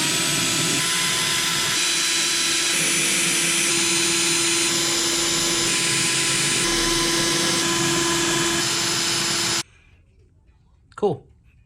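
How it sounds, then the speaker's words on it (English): A loud power tool whines at a steady high pitch for several seconds, then cuts off abruptly, followed by a brief voice. "then it'll be time to drill some holes"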